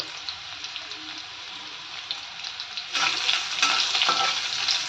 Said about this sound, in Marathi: तेल गरम झालं की अर्धा चमचा जिरं एक तेजपत्ता आणि थोडासा कांदा